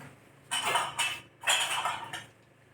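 Several clattering bursts of dishes, tumblers and utensils clinking together as they are set down in a dishwasher rack, close up, in three or four uneven clusters.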